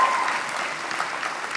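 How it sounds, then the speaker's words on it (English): Audience at a credit union annual meeting applauding, a short, steady burst of clapping held at an even level. "One more round of applause."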